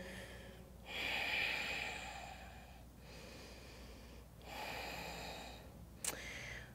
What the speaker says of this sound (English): go back to Ujjayi breathing, which is in and out through your nose